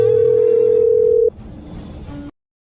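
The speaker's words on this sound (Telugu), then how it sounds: "ఫోన్ రింగ్ అవుతుంది చూడు" A telephone gives one steady electronic tone, loud and close, that cuts off after about a second, followed by a short stretch of faint room noise.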